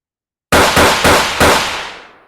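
Gunfire sound effect added in video editing for a character firing a firearm: four rapid, loud, sharp shots in quick succession with a decaying tail, no talking.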